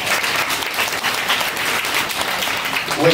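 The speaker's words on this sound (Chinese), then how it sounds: "大家鼓掌一下" Audience applause fills the room at a Chinese Taipei men's basketball team fan meeting in Taipei, a steady, dense wash of clapping lasting the full stretch without pause.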